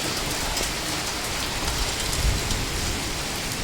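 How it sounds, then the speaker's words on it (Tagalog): Steady evening rain pours down, a dense even hiss of drops on surfaces that continues throughout, with no voices. "So ulan na rin siya, paggabi na rin to."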